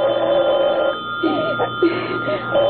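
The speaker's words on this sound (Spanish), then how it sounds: "Es el teléfono, querida." A telephone bell rings in a domestic drama scene, a steady ringing tone at the start that then comes back in repeated bursts, fairly loud and close, with no talk over it.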